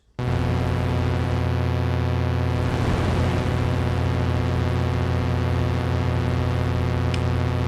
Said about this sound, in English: brown noise